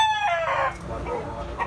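Bullstag gamecock crowing once at a Cebu poultry market in Tabunok, a loud, close crow rising and falling over about a second, with market bustle around it.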